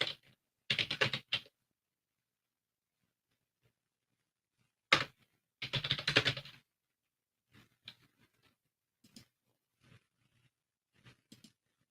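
Bursts of quiet typing on a computer keyboard, a few quick clusters of keystrokes separated by silent pauses, followed by scattered single taps; close and faint, with no talking.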